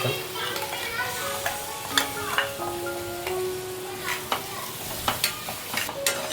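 Masala paste of wet and dry coconut, roasted onion, garlic and ginger, with Kashmiri chilli and turmeric, frying in a pan for Konkani chicken vade; a steady near sizzle runs throughout, broken by repeated scraping stirs of a spoon.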